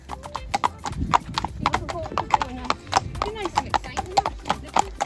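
Horse hooves clip-clop on a road in a quick, regular rhythm as the horse is led during ligament rehab work, close and clear with a person talking over the steps.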